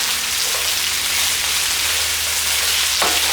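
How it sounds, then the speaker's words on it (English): Lamb chops stir-frying with onions in a pan over the highest heat, giving a steady, loud hiss like rain with a low hum beneath and one sharper clatter near the end. "now we're going to stir fry the lamb chops with the onions"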